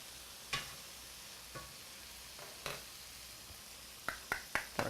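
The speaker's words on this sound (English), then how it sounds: "We're going to let this saute for a couple of minutes." Chicken sautés quietly in a pan, a faint steady sizzle punctuated by a few sharp clicks and scrapes of stirring, clustered toward the end.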